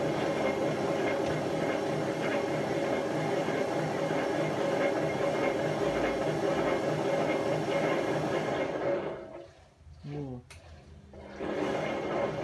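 Washing machine drum spinning on worn bearings gives a loud, continuous grinding rumble for several seconds, then winds down to near silence before a faint hum returns.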